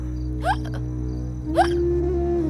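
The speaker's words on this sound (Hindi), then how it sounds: "पापा पानी भी लेके आओ ना, बहुत हिचकी आ रही है।" A girl hiccups twice in a dramatic film scene, each hiccup a short, sharp, voiced catch about a second apart, close and clear over a steady low hum and a faint background tone.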